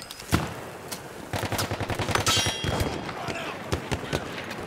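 Gunfire from an enemy machine gun in the video game Battlefield 1, sharp repeated shots in a fast burst with clanks and thuds around it, loud and close amid battle noise.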